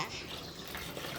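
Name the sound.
water splashing while washing toy Hot Wheels cars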